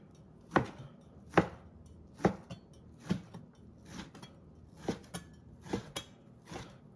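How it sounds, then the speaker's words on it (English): Knife chopping ginger, onion and Thai chilies on a cutting board while preparing pork egg rolls, about eight crisp, evenly spaced chops close up with quiet pauses between. "I'm going to cut some ginger, some onion, and some Thai chilies"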